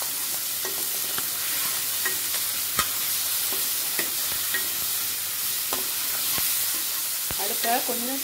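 Ground garlic, ginger and spice paste stirred into a pan for goat liver gravy, with a steady low frying hiss and repeated scraping clicks of a spoon against the pan, no talk.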